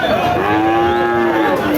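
Heifer calves mooing at the Barobazar cattle market in Jhenaidah, one long, loud, drawn-out tonal moo rising over a steady background of market bustle.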